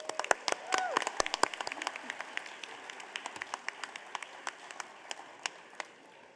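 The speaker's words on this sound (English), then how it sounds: "Let's give our new students a round of applause" Scattered, thinning claps from a convocation audience welcoming new students at USC Upstate, starting in a brief louder burst and dwindling to sparse individual hand claps, fairly distant and faint.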